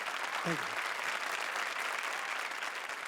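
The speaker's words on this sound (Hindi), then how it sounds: "जोरदार तालियां" A studio audience on the Comedy Circus show breaks into loud, continuous applause, a dense steady roar of clapping with a brief voice heard early on.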